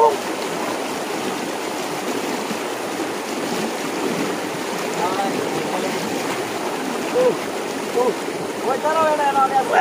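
Fast-flowing water of the Dhalai River at Ambassa rushes in a steady, loud wash throughout, with voices talking and calling over it near the end.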